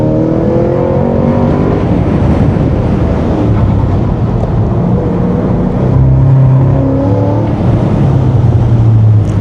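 A modified Cadillac CT5-V Blackwing with an 835 hp engine drones loudly and steadily at speed, its engine note rising and falling under heavy wind and road noise throughout.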